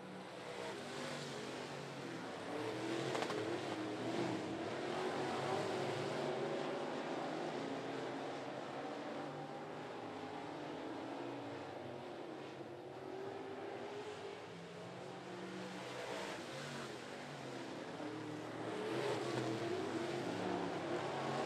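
Modified race cars roar steadily around the 411 Motor Speedway track on the final lap, a continuous dense engine drone that swells and fades slightly as the pack passes, heard from a distance without clear talk.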